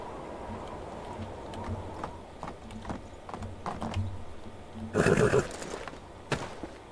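In Medieval Dynasty, horse hooves thud softly over a faint background, and a sudden loud neigh bursts out near the end before a final clop.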